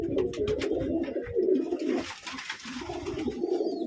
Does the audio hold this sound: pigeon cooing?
yes